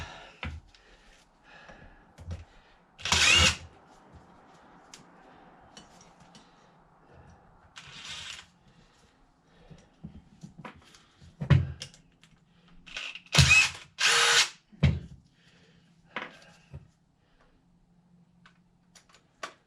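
An impact driver removes screws from a Toyota Celica in a few short, sharp whirring bursts, scattered among quiet clicks and handling noises in a mostly hushed garage.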